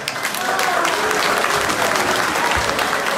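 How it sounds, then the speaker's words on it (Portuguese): An audience at a village masquerade costume contest claps in continuous, loud, dense applause for the masqueraders, with crowd noise mixed in. "E agora, a assistência vai bater palmas aos mascarados."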